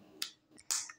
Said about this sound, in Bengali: হাততালি।